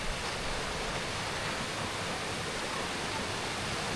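A river near Mt. Pinatubo, an active volcano, rushes past in a steady, dense broadband wash of water, constant and fairly loud with no pauses.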